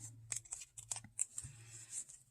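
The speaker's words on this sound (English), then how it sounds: "I'm going to tape that into place" Tape is handled and pressed down to hold a stencil piece in place during a craft project, giving a short run of faint, close crinkles, taps and small tearing clicks in a quiet room.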